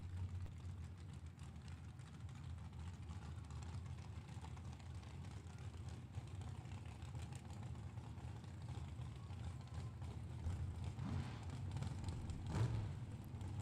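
Super Pro drag racing cars idle as they back up after burnouts at a drag strip. A faint, distant low engine rumble holds steady throughout, with a slight swell near the end and no voices.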